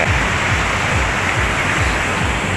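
Strong waves roll onto the shore at a beach in Binmaley, Pangasinan, a loud, constant wash of surf noise that fills the whole stretch without any voices.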